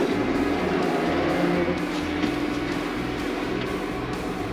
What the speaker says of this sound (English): let's go fire up the tractor, get the hydraulics rolling